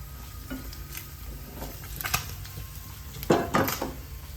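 Paneer pieces sizzle steadily in a hot pan as they are turned, with soft metallic scrapes and clinks of a utensil and a couple of louder clatters near the end.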